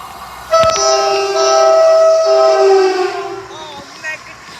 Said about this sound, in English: Is that actually a stopping train that wanted to do the horn?